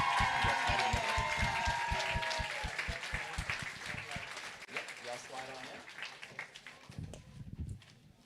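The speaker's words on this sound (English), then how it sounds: "Let's give all of these contestants a nice big round of applause." A talent competition audience applauds the contestants, with sharp, rhythmic clapping at first that thins into scattered claps, joined by voices and crowd murmur toward the end.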